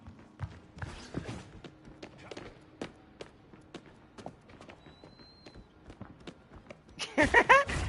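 Footsteps in the Marvel Rivals video game: a steady run of quick, light taps with some clopping under a busy game mix, ending in a louder burst of noise.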